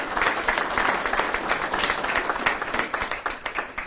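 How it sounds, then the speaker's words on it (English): An audience at a military promotion ceremony breaks into steady, dense applause, many hands clapping together close by and holding a fairly even level throughout. "How about a round of applause here?"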